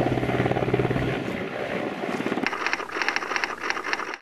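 A military helicopter flies nearby, its rotor and engine drone steady and loud throughout, with a shift in tone about midway as a higher whine comes to the fore.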